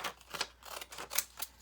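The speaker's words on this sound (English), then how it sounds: "I'm going to just cut it out with the decal scissors" Decorative decal scissors snip through paper cards in several quick, close crisp cuts spaced a fraction of a second apart, with no voices present.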